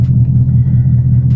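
A 2024 Ford Mustang GT idles with a loud, deep, steady rumble close by, with no talking over it.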